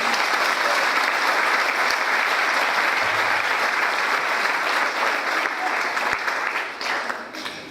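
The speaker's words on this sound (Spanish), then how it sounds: "¿Cuántos pueden darle un aplauso al Rey?" A church congregation applauds together, a loud, even wash of many hands clapping that holds steady for several seconds before tapering off slightly near the end.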